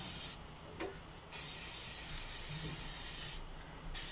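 An aerosol can sprays a light coat of black paint onto a restored Les Paul guitar headstock: bursts of bright hiss, one short and one long sustained, separated by quiet pauses.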